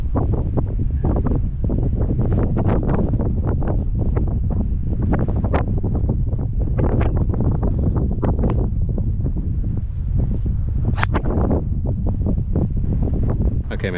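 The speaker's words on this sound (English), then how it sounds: "this wind is ridiculous" Strong wind on a golf course buffets the microphone in loud, continuous gusty roaring that fills the whole stretch, with no voices.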